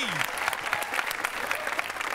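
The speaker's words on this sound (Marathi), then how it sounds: "जोरदार टाळ्या सरांसाठी." Audience applause from a studio crowd at a Marathi television comedy show, a steady dense wash of clapping that holds loud throughout.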